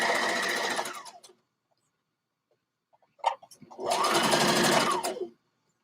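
A sewing machine runs in two loud, steady bursts while seams are stitched and the fabric is stretched, separated by a silent pause and a few brief handling clicks.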